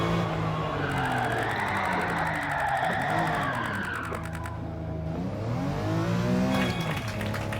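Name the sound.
car drifting with handbrake in video game Gran Turismo 7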